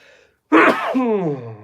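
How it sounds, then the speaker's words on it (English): A single sharp sneeze bursts out close to the mic after a faint breathy intake, trailing off into a voiced tail. "I gotta sneeze."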